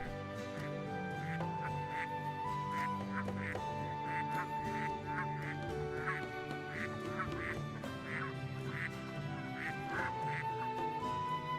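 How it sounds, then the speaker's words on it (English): Ducks quack repeatedly in a steady, rhythmic run of calls during the Baten Kaitos video game, layered over continuous tonal background music. "I hope you enjoy duck sounds."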